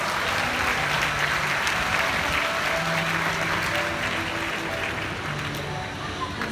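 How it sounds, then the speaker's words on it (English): Audience applause at a bird show at Bird Paradise in Singapore, a dense, steady crowd clapping that fills the whole span with a faint voice or music beneath it. "Let's give them a big round of applause."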